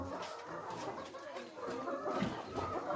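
Hens cluck steadily at a poultry farm raising free-range village chickens for eggs, a dense, continuous flock chatter heard close and alone with no talking.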